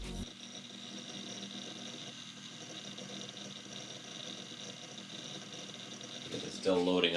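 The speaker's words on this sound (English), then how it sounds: "Currently, the computer sounds like this." An old Mac Pro workstation runs while loading project files, giving a steady close fan hum and whir that stays even throughout, then ends with a brief louder rustle near the close.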